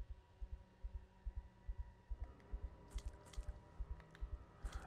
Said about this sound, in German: Da ist auch immer wie so ein Herzschlag oder so in der Mucke.